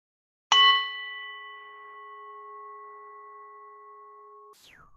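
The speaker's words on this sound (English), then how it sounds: "I'm going to go ahead and invite the bell to begin our practice today" A single meditation bell is struck once, ringing out with a bright, clear tone that sustains and slowly fades over several seconds in an otherwise silent space.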